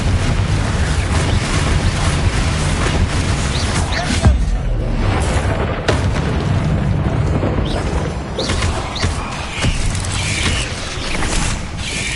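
Fiery Confringo spell blasts from the Hogwarts Legacy video game in the mines, heavy booming bursts layered over dense continuous game noise and creaking mechanisms, loud and sustained throughout with a voice casting spells.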